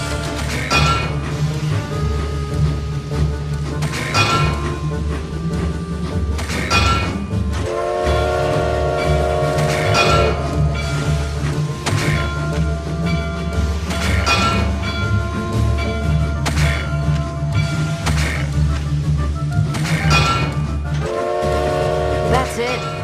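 A train rolls along in a video game as a track switch is hit repeatedly, with steady rumbling and clacking, loud recurring whistle blasts and sharp hits over a continuous mechanical drone.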